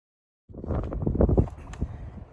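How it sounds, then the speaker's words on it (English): Wind gusts buffet the microphone on a dry desert mountain trail in South Mountain Preserve, rising suddenly into a rumbling, rustling rush that swells and then eases slightly. "It's windy out here"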